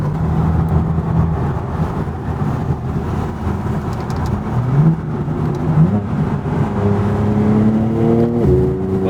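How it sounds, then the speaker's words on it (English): A BMW G80 M3 with a flashed transmission accelerates hard, its loud engine rising and falling in pitch as the gearbox snaps through quick downshifts, the exhaust drone steady and close throughout. "The transmission is so quick. Watch how quick it downshifts."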